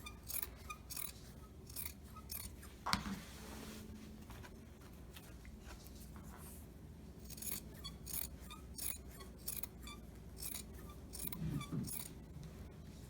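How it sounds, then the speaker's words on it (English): Scissors snip through fabric while a pillowcase is trimmed, giving a steady run of soft, close cutting and rasping strokes with handling noise and no voices. "So right now I am going to cut"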